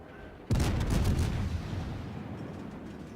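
The cruiser Kutuzov fires a gun salvo in a naval battle game, one sudden, heavy booming blast that rolls off into a long, fading rumble.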